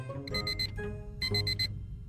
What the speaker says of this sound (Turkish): Ama bu sanki birazcık fazla gerçekçi çalıyor ve kafamın içinden değil yatağın yanından geliyormuş gibi.